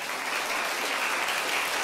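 A TV game show studio audience breaks into dense, steady applause, brief and fairly loud, with no voices over it.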